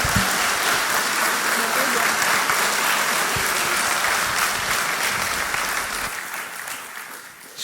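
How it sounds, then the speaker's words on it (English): A church congregation claps for a speaker, a loud, dense wash of applause that holds steady and then thins and fades toward the end, with a few voices mixed in. "Can we give Annie a round of applause?"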